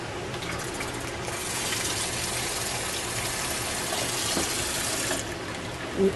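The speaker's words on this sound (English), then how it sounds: "Now I'm going to add just a pinch more water." Water pours steadily from a tap into a pressure cooker holding a cooked roast, a soft continuous gushing stream for about five seconds that tapers off near the end, with no voices.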